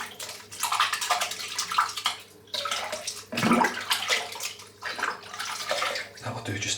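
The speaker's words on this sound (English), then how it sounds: "Just got to rinse the soap out." Running water from a tap splashes and gurgles close by as soap is rinsed off, in uneven bursts with brief breaks where the flow is interrupted.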